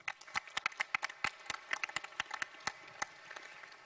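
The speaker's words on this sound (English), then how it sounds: "please, a warm round of applause for Dr. Kotil." Audience applause at an open ministerial meeting on private finance and funding: a thin, scattered round of clapping with sharp individual claps, steady and moderately distant, with no talk over it.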